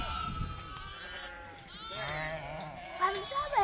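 Sheep in a shepherd's flock bleat close by, a few wavering, drawn-out cries following one another, with a human voice present in the background.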